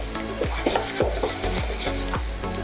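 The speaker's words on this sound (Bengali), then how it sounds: "আর দেবো এর মধ্যে আমি কাজু বাদাম, কিশমিশ দিয়ে ভালো করে এটাকে আবার মিশিয়ে দিই।" Khichuri with fried potatoes, peas, cashews and raisins stirred in a pan, a spoon scraping in steady repeated strokes about every half second over a low sizzle, close and alone.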